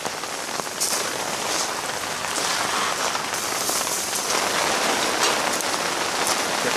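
Steady rain falls on surfaces outdoors during a fishing trip, a dense, even hiss of drops pattering close by and continuing throughout without talk.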